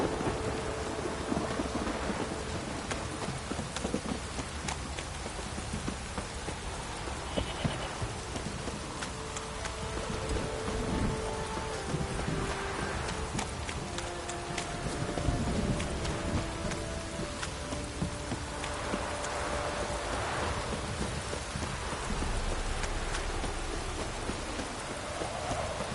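Heavy rain pours steadily in The Witcher 3 video game while thunder rumbles and rolls underneath, a dense, continuous wash of sound with no voices.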